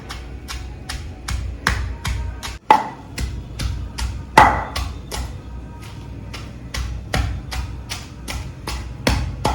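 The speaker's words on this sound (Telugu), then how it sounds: "ఈలోపు మనం అది దంచేసుకుందాం" A stone mortar pounding ridge gourd chutney with garlic and chillies, a steady series of sharp, close thuds at a regular beat, repeated about three times a second with no talking.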